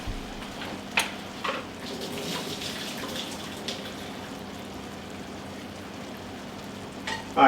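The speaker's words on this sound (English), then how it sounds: "we're going to go ahead and drain our vegetables" Cooked vegetables are drained, with a continuous splashing rush of water pouring, close and fairly even, with a few sharper clatters at the start and end.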